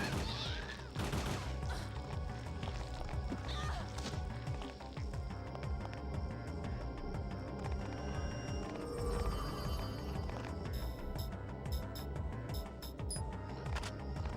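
Rapid gunfire in Parasite Eve 2: dense, continuous bursts of shots mixed with other game sound effects, steady and fairly loud for the whole stretch, with no talking.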